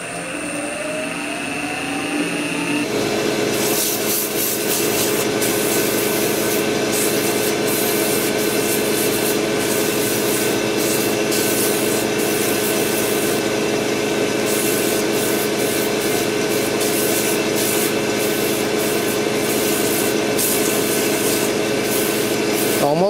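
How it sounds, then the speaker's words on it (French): Abrasive sanding of a wood-turned piece spinning on a lathe, likely with 120 to 150 grit paper, a steady loud rubbing hiss over the constant drone of the machine, starting after a quieter moment and continuing unbroken. "après on peut donner un petit coup de ponçage."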